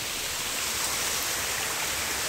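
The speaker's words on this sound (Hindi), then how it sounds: "ये झरना से पानी गिर रहा है" Waterfall in the Meghalaya jungle: a loud, unbroken roar of falling water, a dense broadband rush that stays perfectly steady, with no voices over it.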